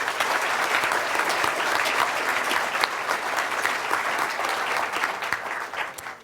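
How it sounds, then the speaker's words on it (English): A crowd applauds at a New Plymouth mayoral debate, loud, dense, steady clapping sustained for several seconds before starting to taper at the end. "Can we please have a round of applause?"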